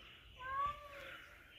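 A cat meows once at moderate distance, a drawn-out tonal call that rises and falls over about a second, over a quiet indoor background.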